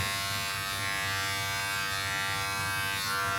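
A steady electric buzz from a beard trimmer runs without a break, close and fairly loud, with a faint rasp as it moves over hair.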